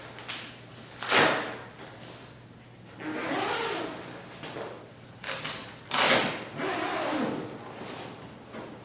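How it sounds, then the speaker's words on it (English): A Eureka TCOP tent door is opened with several close, rasping fabric-and-zip bursts, two longer scraping pulls separated by short sharp rustles, in an otherwise quiet setting. "Now I'll open the door just to prove that the light is still on inside there."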